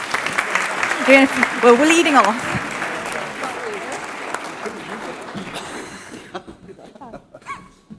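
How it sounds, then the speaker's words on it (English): Applause from a conference audience greeting committee members as they leave the stage, a broad crowd clatter that swells, then thins and fades out near the end, with voices talking over it. "Please give applause to the rest of the AAC as they come off stage with me"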